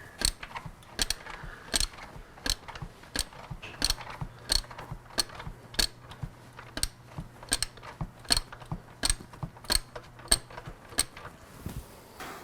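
Ratchet wrench clicking steadily in close-up while a slip-on exhaust is fitted to a Yamaha R6 sport bike, sharp rapid clicks in repeated bursts with brief pauses, a faint low hum beneath.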